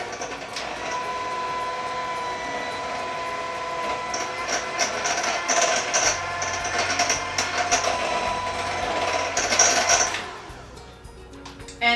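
Homemade buttermilk of milk and vinegar is mixed into chocolate chip muffin batter, likely with an electric mixer whirring steadily and close, growing louder with rattling bursts before cutting off near the end.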